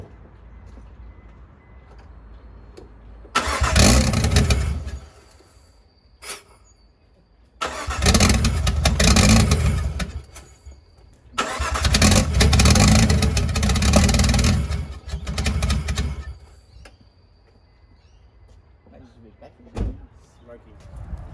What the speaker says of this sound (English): I thought I'd give it a bit of a test start to see if it would run.